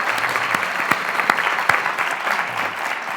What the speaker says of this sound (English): the spontaneous applause you're getting